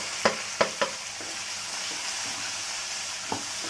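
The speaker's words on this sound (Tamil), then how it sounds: "இப்போ நான் வந்து வெங்காயம் போடுறேன்" Onions dropped into a hot pan for a Tamil sundakkai vatha kuzhambu, a soft steady frying hiss punctuated by a few sharp utensil clicks, quiet and close, with no one speaking.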